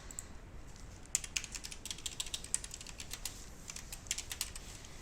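Faint, quick plastic clicks from a computer keyboard come in a short irregular burst as keys are pressed for a shortcut, with no voices.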